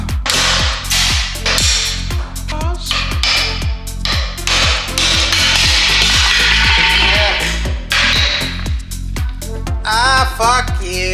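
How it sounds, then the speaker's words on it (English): Drilling out a part during an Opel Kadett GSI restoration, a loud close power tool whining and rattling in repeated bursts with metallic scraping and clatter throughout. "got the final one drilled completely out"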